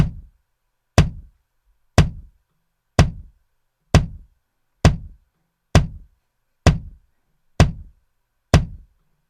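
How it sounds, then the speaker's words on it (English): A single punchy kick drum thumps at a steady, even pace, about once a second, each hit decaying quickly into silence. "put a kick sound like this"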